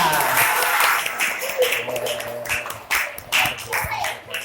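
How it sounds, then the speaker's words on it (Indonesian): Classroom applause from students clapping together, a dense burst of hand claps that fades after a second or so as a teacher's voice takes over and talk continues. "Tepuk tangan untuk kita semua"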